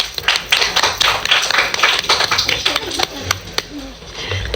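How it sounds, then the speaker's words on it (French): Classroom applause for the best-behaved pupils, a dense, close patter of many small hands clapping unevenly throughout, with a voice briefly heard underneath. "On peut les applaudir."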